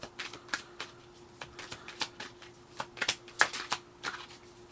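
Tarot cards shuffled by hand in a quiet room, a steady run of soft riffling flicks and slaps, close and alone without any voice.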